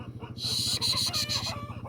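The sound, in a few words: hens clucking and crying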